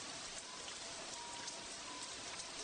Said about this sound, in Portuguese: Está realmente chovendo agora.